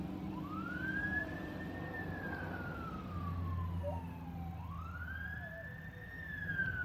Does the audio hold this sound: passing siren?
yes